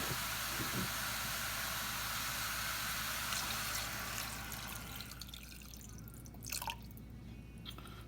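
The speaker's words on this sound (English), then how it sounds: "to this, I'm going to add 2 cups of water." Steady rushing stream of water pouring into a pot, fading and thinning toward the end with a few splashy drips.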